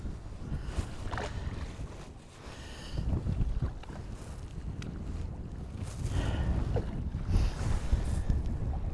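Wind blowing across the sea off Whitley Bay during UK kayak fishing, a continuous low rumbling buffet on the microphone that swells in gusts, with faint water movement beneath and no talk.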